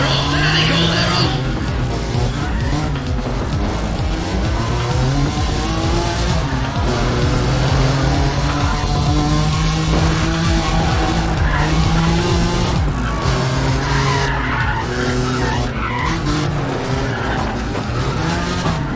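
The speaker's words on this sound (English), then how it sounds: "we've got the engines up and running, and they're off." Race cars in NFS ProStreet roar at full throttle with tires skidding and squealing, a loud continuous engine drone that rises and shifts through the whole stretch, with a commentator's voice faintly mixed in.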